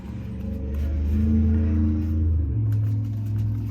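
A car rumbles past nearby on a country road, its low engine drone swelling and then shifting pitch as it moves away, with no voices.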